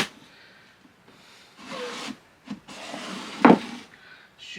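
Wood rubbing against wood on a scrapwood machinist's chest, heard as several separate close scraping strokes with short gaps between them, the last one sharper and louder.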